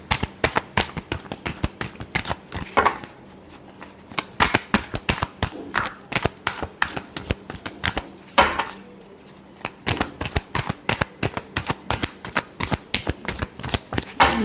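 Tarot cards being shuffled by hand, heard close up as quick runs of crisp snapping clicks broken by short pauses, with no voices.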